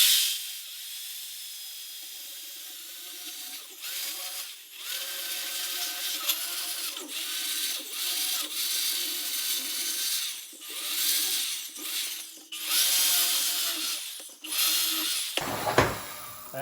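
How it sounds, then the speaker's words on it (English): A power tool cuts the flange off a 1962 Ford Falcon exhaust pipe in repeated bursts of high, hissing grinding, each separated by brief pauses, close and fairly loud. "I'm cutting the flange off of the pipe"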